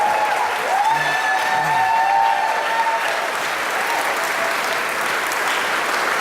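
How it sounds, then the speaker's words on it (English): An audience applauds steadily at a talk on happiness, a dense, even wash of clapping from a sizable crowd that continues without a break throughout. "Give him a huge round of applause."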